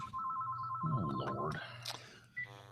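A telephone rings with a steady electronic trill, then a voice speaks briefly over it before the ringing fades out.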